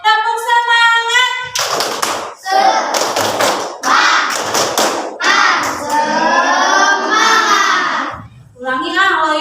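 A class of schoolchildren performs a rhythmic spirit clap pattern, sharp bursts of hand claps and thumps interleaved with their loud chanted voices and a teacher's voice, close and lively throughout.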